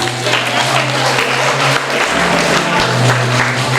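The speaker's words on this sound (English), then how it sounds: "Can we just give them a round of applause?" Parents and guests at a primary school graduation service give the committee a loud, continuous round of applause, dense clapping over a low steady hum.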